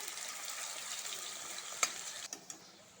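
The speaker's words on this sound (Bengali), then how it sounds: "আলুটা আগে ভাজা ভাজা করে নিবে" Potatoes frying in a pan for a dry-cooked chicken curry give a steady broadband sizzle across the whole stretch, with a few sharp clicks and clatters near the end.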